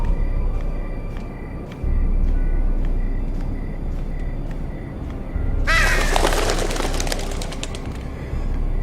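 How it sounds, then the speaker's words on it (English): Crows cawing in a Game of Thrones video game, harsh repeated caws against a steady loud ambient bed of game noise, with a louder dense burst of bird calls partway through. "Birds."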